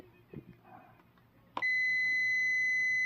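A continuity buzzer on a tester used to repair a SMART OTDR gives a sudden steady high beep that sounds without a break after a few soft handling clicks.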